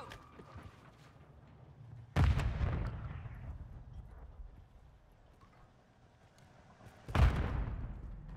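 Two loud, sharp blasts from grenades in the Call of Duty video game, the first around two seconds in and the second about five seconds later, each one booming and then decaying over a low background rumble.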